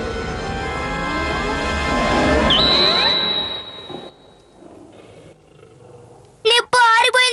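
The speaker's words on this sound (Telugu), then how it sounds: "పులులు అరుస్తున్నాయి, జాగ్రత్త." Cartoon tiger roar, a long loud rumbling growl swelling over about three seconds and then tailing off, followed by quieter shuffling and a sharp burst of high voiced cries near the end.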